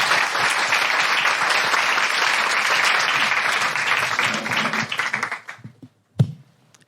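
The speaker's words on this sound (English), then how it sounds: "Big round of applause." Audience applause at a town hall panel discussion, a loud sustained round of clapping that thins out and stops after about five seconds, followed by a single sharp tap.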